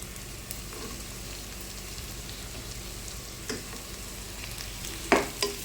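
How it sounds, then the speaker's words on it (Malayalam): Curry leaves, ginger and garlic sautéing over high flame give a soft, steady sizzle at low level, broken by a couple of brief sharp clinks near the end, with no one speaking. "കുറച്ച് വലിയ തീയിൽ തന്നെ നന്നായിട്ട് കുറച്ച് വഴറ്റി കൊടുക്കാം ഈ കറിവേപ്പിലയും ഈ എടുത്ത് വെച്ച് ഇഞ്ചിയും വെളുത്തുള്ളിയും ഇടാം"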